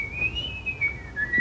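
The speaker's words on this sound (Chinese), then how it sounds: "你不是会吹口哨吗？ 你就吹啊，越无聊越好。" A man whistles a single wavering, sustained tone that slides gently up and down, close and clear with no talking over it.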